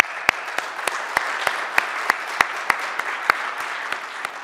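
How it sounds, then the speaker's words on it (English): A small meeting audience gives a round of applause for sponsors, with loose scattered clapping and a few sharp, distinct claps standing out at irregular intervals. "have everybody give a round of applause and recognition to all the sponsors"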